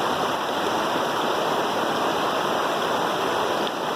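A forest waterfall and stream pour continuously, a full, steady rush of water with no pauses and no voices over it.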